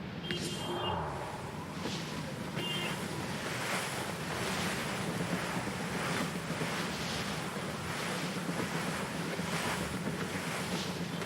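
Stormy sea sailing in Assassin's Creed Rogue brings roaring wind and crashing waves, a constant loud rush with swelling surges and creaking ship sounds, with no talk.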